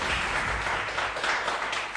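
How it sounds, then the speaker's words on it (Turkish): Studio audience applauding on a Turkish TV quiz show: a dense, steady burst of clapping fills the whole moment at close range. "Alkışlamayın. Zor soru değil alkış."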